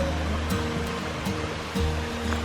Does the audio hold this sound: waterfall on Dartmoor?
yes